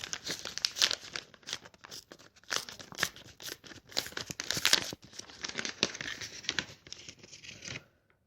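A Revolut bank card's cardboard packaging being opened, with a busy run of crinkling, tearing and rustling handled close up, in irregular bursts for several seconds before it stops.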